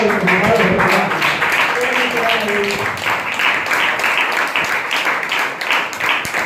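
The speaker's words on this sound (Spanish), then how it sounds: "Denle aplausos al Señor." Congregation clapping in a church service, a steady dense wash of applause lasting throughout, with a voice speaking over it at the start.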